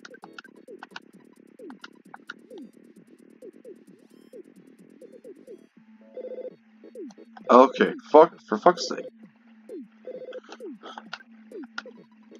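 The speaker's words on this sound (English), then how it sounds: "Ness answered the phone." A telephone rings in the video game Earthbound: a repeating electronic ring pattern plays over soft game background sound, then someone speaks over it.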